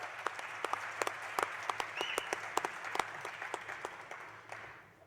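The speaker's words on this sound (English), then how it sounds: "Another round of applause for our organist today, Ken Kaufman." Applause from a theatre audience at the Riviera Theatre for organist Ken Kaufman: steady clapping from many hands with a few sharp nearby claps, sustained for about five seconds and fading at the end, no talk.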